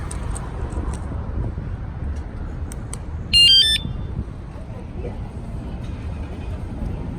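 A short burst of high electronic beeping, several rapid tones at close range, as a Dualtron Thunder electric scooter's motion alarm activates, standing out briefly over a steady low background hum.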